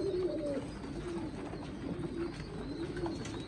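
Homing pigeons cooing in a loft, repeated soft rolling coos from several birds close by over a steady low background, with no talk.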